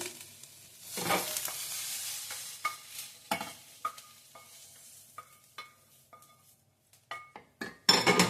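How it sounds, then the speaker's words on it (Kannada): Soft sizzling of onions frying in a pan for avarekalu pulao, with intermittent scraping and stirring clatter against the pan, nearby, without talk. "ಈಗ ಈರುಳ್ಳಿ ಫ್ರೈ ಮಾಡ್ಕೊತಾ ಇದ್ದೀನಿ"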